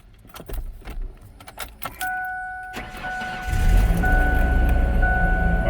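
A car engine with a misfire: keys jangle and click in the ignition, then the engine cranks and catches, settling into a loud, close, rough-running idle that continues to the end.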